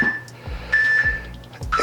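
A workout timer sounds several short electronic beeps at a steady tone, spaced irregularly across the moment, fairly loud and close, with low thuds between them and no speech.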